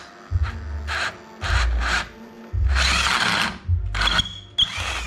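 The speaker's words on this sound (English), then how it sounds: "Now I could drill this hole more open" A power drill whirs in several bursts, stopping and starting as it widens a hole in concrete, loud and close with a low motor drone.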